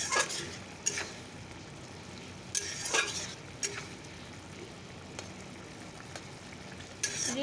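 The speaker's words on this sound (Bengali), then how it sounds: "তো চলো এবার মাছগুলো ছেড়ে দেবো" Puti fish fry with mustard in a pan, a continuous close sizzle broken by sharp scraping stirs every second or two, with no voices.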